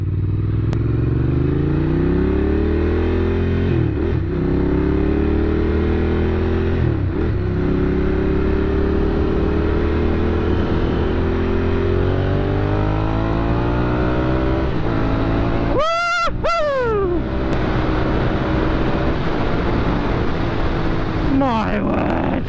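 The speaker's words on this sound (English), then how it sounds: "at least I can give the engine a couple of revs before I put it back in the garage" A Ducati Sport Classic Biposto motorcycle engine idles with a deep throb, then revs sharply a couple of times, the pitch climbing and falling, loud and close.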